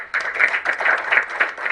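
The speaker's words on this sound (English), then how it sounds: "please join me in congratulating Wim and giving him a big hand clap" An audience applauds with dense hand claps at a corporate ceremony in Uganda, a short burst of crowd clapping that starts abruptly and continues steadily.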